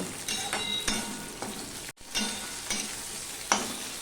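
Onions sizzle steadily in a hot pan, broken by intermittent scraping stirs and one brief pause in the frying sound.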